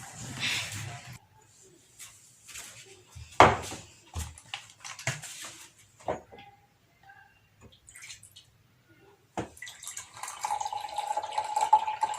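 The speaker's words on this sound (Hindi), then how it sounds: "थोड़ा पानी भर के रखती हूँ इसमें।" Water is poured to fill a container indoors, with scattered drips and splashes early on and a steadier running stream building toward the end, fairly faint and close.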